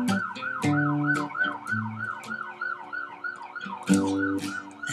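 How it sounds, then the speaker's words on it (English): Wailing emergency vehicle sirens rise and fall steadily in the background for the whole stretch, staying clear and fairly loud, with thumping traffic noise underneath and no talking. "And sirens in the background"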